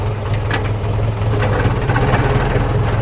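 A tractor engine runs close by with a loud, steady low diesel thrum and rhythmic chugging that continues without a break.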